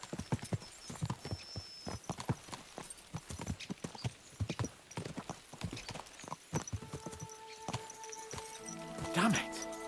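Horses' hooves clip-clop steadily on a road in Kingdom Come: Deliverance II, a brisk, close rhythm of many hoof strikes with a neigh near the end.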